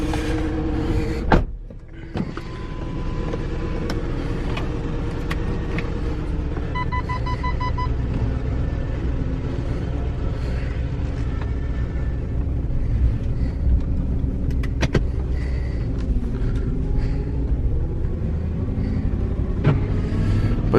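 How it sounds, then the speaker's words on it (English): A Volkswagen Touareg V8 with a misfire idles steadily, giving a continuous low rumble from close by with a faint uneven roughness. A brief clunk comes early on, and a soft clicking follows midway. "Yep, it's still misfiring."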